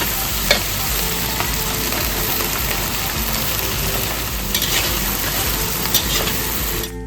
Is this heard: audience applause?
no